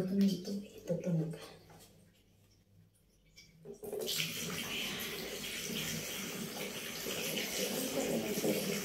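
Water is poured into a container until it fills, a steady broadband rush starting partway through after brief quiet, with speech over the opening seconds.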